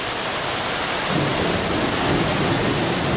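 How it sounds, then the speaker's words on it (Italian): Heavy rain pours down in a night thunderstorm over Sardinia before a flood disaster, a dense steady roar with a deep rumble of thunder swelling in after the first second and holding to the end, no voices. "Guardate che tempesta ragazzi! Che tempesta! Che tempesta!"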